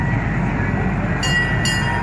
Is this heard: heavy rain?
no